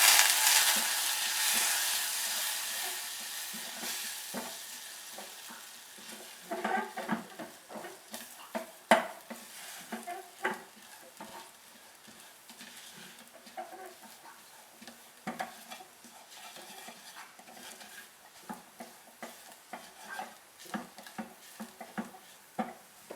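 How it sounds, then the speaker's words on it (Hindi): Two tablespoons of flour roasting in melted butter in a pan for an Alfredo sauce, with soft sizzling and repeated scraping, clicking stir strokes of a utensil against the pan, close and alone. "अब इसमें डालेंगे 2 टेबलस्पून मैदा और इसको 1 मिनट के लिए भूनेंगे"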